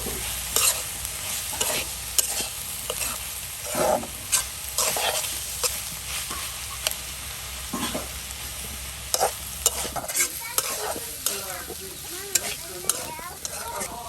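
Water lily stalks stir-fried in a pan, with a steady close sizzle broken by repeated scraping and clacking of a spatula throughout, no voices.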